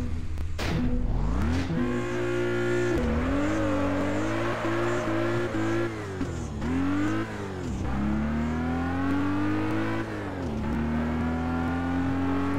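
Lotus Esprit engine in the racing game Test Drive Unlimited 2 on PC, revving and shifting through gears with rising and falling pitch and tire squeal, loud and continuous.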